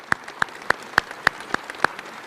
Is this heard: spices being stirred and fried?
no